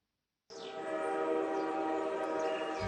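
An Indian Railways train sounds its horn, a loud sustained tonal blast that starts abruptly after a brief silence and holds steady, with no voices.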